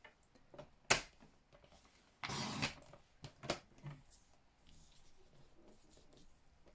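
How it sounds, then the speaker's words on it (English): A blade slices strips off a piece of patterned Christmas cardstock, giving several sharp, brief cuts and one longer rasping slice, all close and fairly quiet against a hushed room. "slice a piece of this off."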